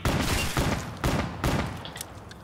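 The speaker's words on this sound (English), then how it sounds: "Shoot zombies. Shoot." Rapid, loud bursts of gunfire from players shooting zombies in Black Ops 3, four heavy volleys in quick succession with no talk over them.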